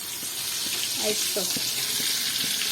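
Dal puri frying in a pan of hot, foaming oil, a steady loud hiss and sizzle throughout, with brief talk partway through.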